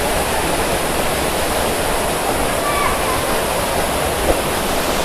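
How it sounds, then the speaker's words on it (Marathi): Large deep waterfall at Kondeshwar temple in Badlapur, a steady loud broadband roar of falling water that fills the whole clip without a break. "हे तर खूप मोठं आहे, आतमध्ये पाणी साचल्यामुळे ते वरती दिसते आपल्याला। खूप खोल आहे वॉटरफॉल।"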